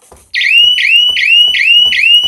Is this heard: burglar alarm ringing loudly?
yes